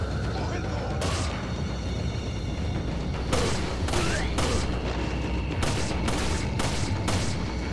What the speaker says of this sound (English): I'm shooting him in the fucking leg!